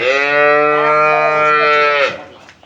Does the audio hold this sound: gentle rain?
no